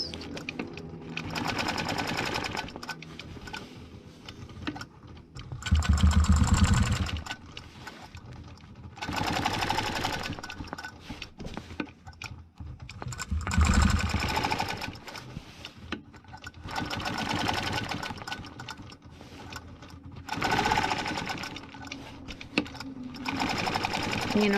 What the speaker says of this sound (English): So I'm going to stitch the outline first.